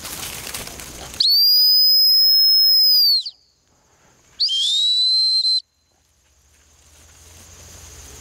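Sharp, loud retriever hunt whistle used in dog training: a long sustained blast of about two seconds, then a shorter second blast, over faint outdoor background.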